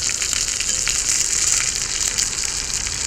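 Hamburger steak and potatoes on a hot cast iron griddle over a Coleman stove, a loud, steady, close sizzle with scattered pops and spatters, no talking.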